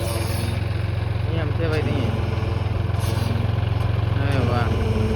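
A John Deere tractor engine runs in a steady, low, throbbing idle close by, continuous throughout, with people talking over it.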